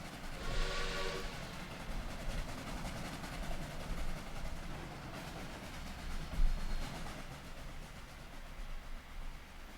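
A train runs in the Trainz rail simulator game, with a steady rolling rumble, a short whistle or horn blast near the start, and continuous wheel and engine noise.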